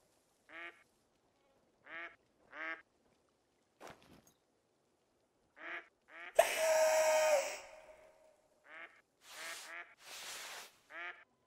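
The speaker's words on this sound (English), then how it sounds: "Oh, I can hear teal somewhere." Several short teal duck quacks in a hunting video game come in spaced bursts, with a louder noisy rush in the middle and more quacking afterward.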